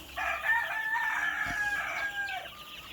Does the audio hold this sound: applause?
no